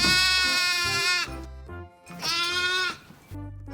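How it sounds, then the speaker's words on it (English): Sheep bleating in a barnyard, two long wavering calls with a short gap between them, close and loud with no other sound. "Sheep make this sound."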